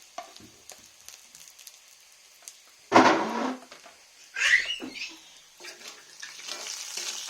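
Chicken fries in a pan with a soft, faint crackle, lifted by two louder bursts of sizzling, as if the pieces are moved or turned, before settling back into a low hiss.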